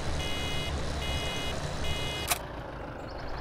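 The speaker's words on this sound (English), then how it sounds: "get rid of that awful noise, that beeping" Three evenly spaced electronic reversing beeps from a Farming Simulator 2017 farm vehicle over a low engine rumble, followed by a short sharp click.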